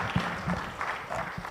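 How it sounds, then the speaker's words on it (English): Audience applause at the opening ceremony of the Kenya Space Expo & Conference 2024, brief and mixed with a voice speaking over it. "Let's give her a round of applause"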